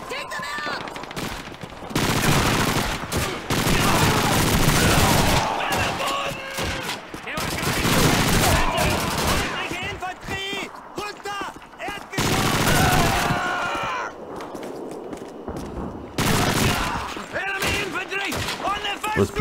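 PPSh submachine gun fire in the Call of Duty 2 Soviet winter campaign comes as long, rapid bursts of loud automatic shots. The bursts repeat with short pauses between them, while battle voices and shouting surface in the gaps.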